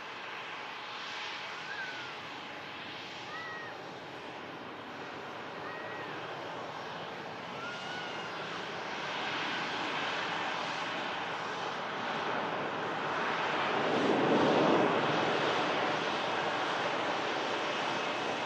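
A Ryanair airliner arriving from Oslo drones as a broad, distant engine roar that swells slowly toward the end, with faint bird chirps over the steady wash and no talking.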